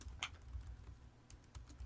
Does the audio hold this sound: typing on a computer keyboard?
yes